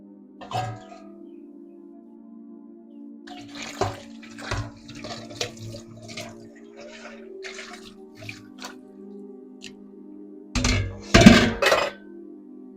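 Water runs from a tap as dishes clink and knock now and then, ending in a louder burst of splashing and clattering.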